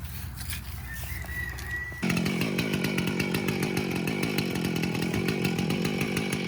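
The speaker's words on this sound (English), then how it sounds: "the saw is warming up" Chainsaw idling and warming up outdoors on a farm with a Scottish Highland cow nearby, a low engine that kicks up to a loud steady buzzing drone with a rapid rhythmic pulse, close and alone.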